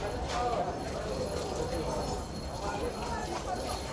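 Horses and mules walking on the Kedarnath trek path, their hoof clip-clops steady against a busy mountain-trail background with people talking nearby.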